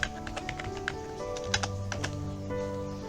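Quick clicks from a computer keyboard come close and fairly loud as a router command is typed out, in an uneven run of keystrokes over a soft hum, with no speech.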